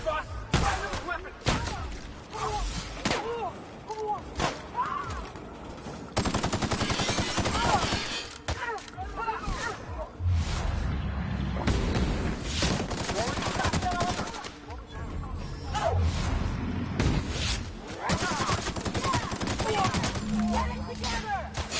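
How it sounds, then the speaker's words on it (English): Weapons firing in The Outer Worlds during an attack on Stellar Bay: repeated bursts of gunfire and rapid automatic shots, loud and dense, mixed with game effects and voices talking over it. "Fire those weapons!"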